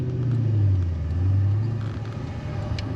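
Steady low rumble of a V8 car with a 3-inch exhaust, heard from inside the cabin while driving, a continuous droning hum with slight swells and no talking.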